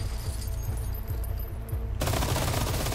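Rapid gunfire from a firefight in the Resident Evil 4 Remake video game, on Hardcore difficulty, dense and continuous bursts of shots that swell louder and fuller near the end, with no speech over it.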